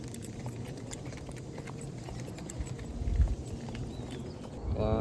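Horse hooves clip-clop along a trail on a tourist horseback ride in Ilocos Norte, a steady loose rhythm of moderate hoof strikes under outdoor background noise, with a brief louder thump near the middle and people talking toward the end.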